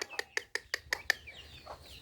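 A hen and her chicks cluck in a quick run of six sharp, evenly spaced calls close by, followed by softer chirping and a faint trailing cluck.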